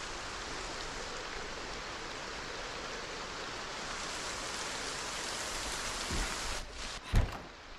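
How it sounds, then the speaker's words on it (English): Steady, dense rain in the video game Project Zomboid, a loud continuous hiss that holds without pause before a few brief thumps and clicks near the end. "Now I don't have to listen to the rain at max volume."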